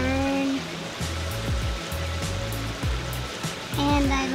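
A garden pond waterfall on an Atlantis pond pours steadily, a constant wash of falling water beneath a few short bursts of nearby talking.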